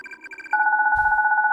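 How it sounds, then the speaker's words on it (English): Electronic telephone ring in the horror game Corpse Party: a fast trilling tone that shifts into a steady warbling two-note ring, loud and close, with a brief low thump partway through. "We can hear the phone call too?"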